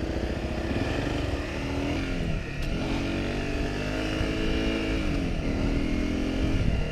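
A Honda rally motorcycle ploughs through soft sand near Kingston SE, South Australia, its engine droning steadily and loud throughout with shifting revs and a brief dip midway, no talking.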